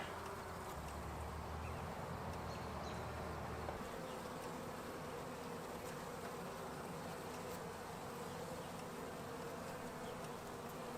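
Dense, steady buzzing of many honeybees swarming around an opened beehive full of brood, a continuous close drone with no talking.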